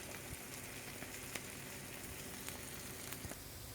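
An egg frying over easy in a pan, a steady close hiss of sizzling oil with tiny scattered pops and crackles throughout, no voices.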